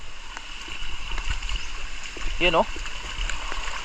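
Strong rushing water surges steadily after a heavy downpour on a rural farm, a continuous broad roar close by while a voice speaks over it.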